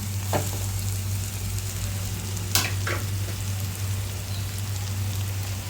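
Finely grated potato frying with masala in a pan, a dense continuous sizzle up close, broken by a few sharp scrapes and taps of a spoon against the pan, with a low steady hum underneath and no talk.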